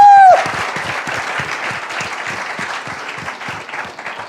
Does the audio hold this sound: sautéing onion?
no